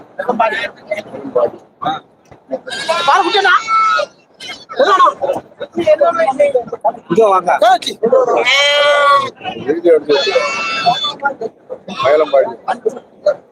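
Goats bleat repeatedly at a busy Tuesday livestock market in Melapalayam, Tamil Nadu, their loud wavering cries rising over near constant bargaining talk.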